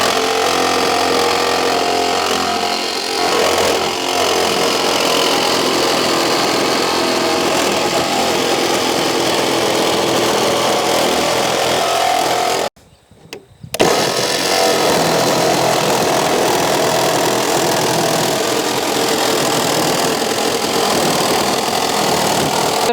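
Power jigsaw cutting a large hole through sheet metal for a rooftop air conditioner on a Toyota Coaster bus: a loud, continuous buzzing rasp that stops for about a second partway, then resumes steadily, with no talk.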